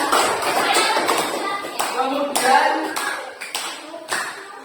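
A class of students clapping hands in a school gym lesson, a series of sharp, fairly loud clap bursts in an uneven rhythm with brief gaps, and a voice speaking at the start.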